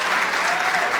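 An audience at an awards reception claps, producing a dense, even burst of applause that fills the room.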